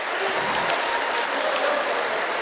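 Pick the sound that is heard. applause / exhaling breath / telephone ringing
applause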